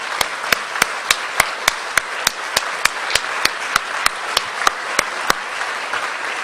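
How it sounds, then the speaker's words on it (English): Audience at an awards event applauding, a dense wash of clapping with a regular series of loud, close claps punctuating it, sustained throughout without talk. "please stand and give them one more applause."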